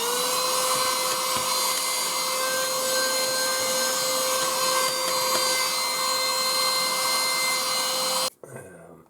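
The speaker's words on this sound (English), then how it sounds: "Use the hoover, vacuum." A vacuum cleaner cleans the inside of a PS4 console with a steady, loud high-pitched whine and a constant tone. It runs for about eight seconds, then cuts off abruptly.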